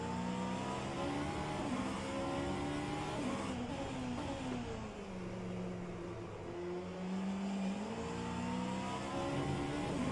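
Vanwall hypercar racing at Watkins Glen in a racing video game, its engine droning loud and steady with rising and falling harmonic sweeps as revs climb and drop through gear changes, continuous throughout with no talk.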